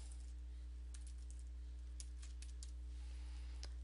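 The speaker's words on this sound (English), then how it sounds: "Let's just type Gettysburg there." Light keystrokes tap on a computer keyboard in short, irregular bursts, quiet and close, with a steady low electrical hum underneath.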